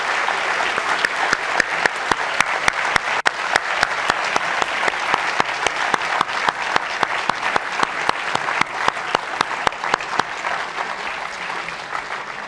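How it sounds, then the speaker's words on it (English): An audience applauds after an innovation lecture at a European SME business assembly. Loud, dense clapping runs for about twelve seconds, with sharp individual claps standing out from the steady wash of hands. "I wanted to give you, on behalf of everybody, a great applause for this presentation."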